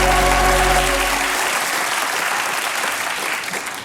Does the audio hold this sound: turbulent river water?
no